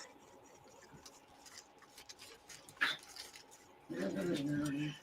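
Two small dogs whimper and yip in short, faint bursts from nearby, with a louder, steadier whining stretch near the end, heard beneath a person talking.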